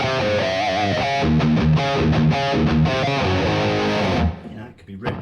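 An electric guitar plays in an 80s hair metal style through a Line 6 Firehawk FX with dark chamber reverb, giving thick distorted chords and sustained notes over about four seconds. A brief reverb tail rings out, followed by a few faint picked notes.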